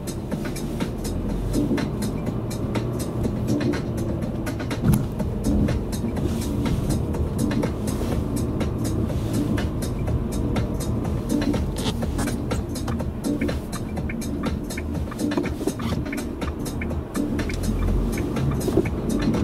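A Dacia Duster II pulls away, its engine and road rumble forming a steady, continuous drone with dense tyre and cabin noise and no voices.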